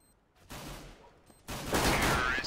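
Gunfire in a Counter-Strike: Global Offensive match, from a P2000 pistol: a moderate burst of shots about half a second in, then a louder, denser volley that carries through to the end, with no talk.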